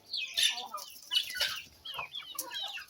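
Chickens and chicks cluck and chatter close by in a busy farmyard flock during feeding, with overlapping calls and no clear talk over them.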